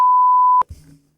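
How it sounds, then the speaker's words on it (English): A censor bleep covering a swear word in a football recap, a single steady pure tone held for about half a second, loud and abrupt, followed by a brief low murmur of a voice. "There's a lot of beeps."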